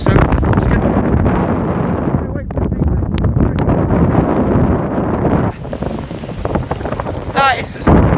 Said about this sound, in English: the wind was blowing us right across. It's really powerful